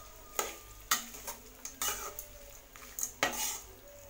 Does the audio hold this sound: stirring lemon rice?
yes